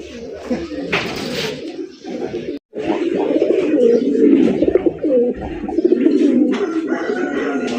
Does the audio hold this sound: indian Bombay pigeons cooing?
yes